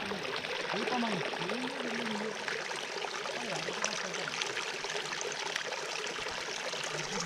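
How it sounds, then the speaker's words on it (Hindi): Water of a mountain stream flows and trickles steadily on a Himalayan trek near Mahasar Taal in Tehri Garhwal, a soft continuous babble at moderate distance, with a voice briefly heard early on. "ये आवाज़, पानी की दो आवाज़ें"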